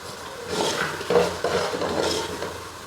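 A spoon scrapes and stirs a turnip and pea curry with fresh coriander in a pan, producing repeated swishing strokes and soft clinks over a faint background sizzle.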